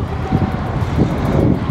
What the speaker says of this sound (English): Really windy over here.